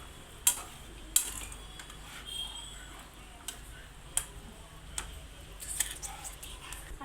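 Salted vegetables are stirred in a cooking pot, with a quiet, irregular series of sharp spoon clicks and taps against the pot over a soft background hiss.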